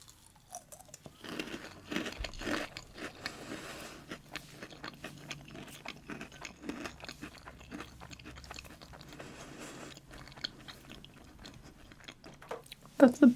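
Crunchy caramel sugar puff snacks are chewed close to the microphone, giving dense, continuous crackling bites and mouth sounds that go on without pause.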